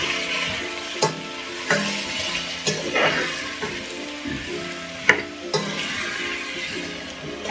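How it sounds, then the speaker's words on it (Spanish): Vegetables and bay leaves are stirred in a pot of fish broth, giving a steady soft sizzle with scattered scraping clicks of the utensil against the pot, moderately quiet and without talk. "y lo vamos a mover"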